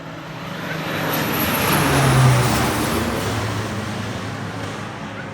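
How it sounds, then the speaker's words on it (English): A crop-spraying propeller plane drones overhead, its broad engine roar swelling to a peak midway and then slowly fading as it passes. "we've constantly got these propeller planes that are basically doing one last sprays of fertilizer or herbicide"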